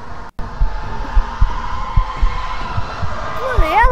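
A steady, muffled heartbeat thumps in the horror game The Mimic, regular low pulses roughly every half second beneath a droning hum, with a brief warbling tone near the end.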